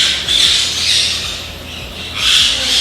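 Pet store birds give loud, close, harsh squawks, about three drawn-out screeching calls in quick succession with short gaps between them.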